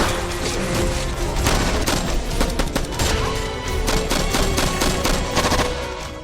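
A rapid, chaotic exchange of gunfire fills a Steven Seagal action movie scene, with dense bursts of shots and booms close and loud, and no talk.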